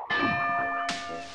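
A bell rings out in the PlayStation game MediEvil, two loud metallic strikes with long sustained ringing tones, the second hit arriving near the end and cutting over the first's decay.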